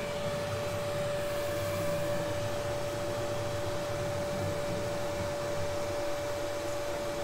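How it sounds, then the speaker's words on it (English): An HVAC vacuum pump runs steadily while pulling a vacuum on a real system, giving a loud, constant mechanical hum with a sustained tonal drone and broadband whir, unchanging throughout and with no talk. "So as we pull a vacuum on the pump, we just want to make sure that we come to at least the rating on the nameplate"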